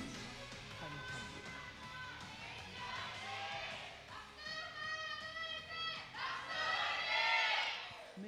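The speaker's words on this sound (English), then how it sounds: "The cheer is louder for the ROX Tigers." Esports arena crowd at a League of Legends LCK match (KT vs ROX Tigers, 2018) cheering and whooping as the game starts, swelling in loud waves with many overlapping voices.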